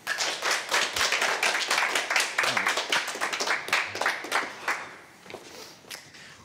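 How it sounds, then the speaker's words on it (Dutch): An audience clapping for a cabaret duo, dense, lively applause with sharp individual claps that gradually thins and fades toward the end. "Dus maak een applaus voor Van der Laan en Woe."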